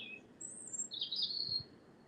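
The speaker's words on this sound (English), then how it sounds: "do you hear the birds?" Small birds chirp outdoors in a quiet natural setting, giving a few bright, high, brief calls over soft background ambience, fairly distant and without talking.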